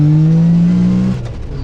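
A Yamaha YXZ 1000R buggy in four-wheel drive pulls away in first gear, its engine droning loud and close with a rising tone, then cutting off sharply near the end, leaving a lower rumble.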